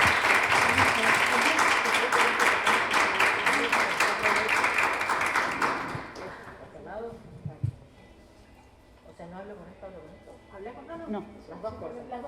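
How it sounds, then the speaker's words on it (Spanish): Audience applause welcoming a guest speaker at a book presentation, a dense burst of clapping filling the room for about six seconds before fading, followed by someone speaking. "le damos un aplauso por estar aquí y acompañarnos"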